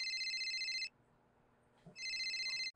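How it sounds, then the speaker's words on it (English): A cell phone ringtone plays in two bursts of rapid, warbling electronic tones, separated by a short quiet gap, fairly clear and close with no talk. "his cell phone rings"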